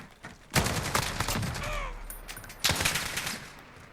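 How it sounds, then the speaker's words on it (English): An L85A2 rifle tap-fired in Call of Duty Modern Warfare, two loud bursts of rapid shots about two seconds apart, close and punchy, with faint mechanical tones between them. "So if I were to just tap fire this"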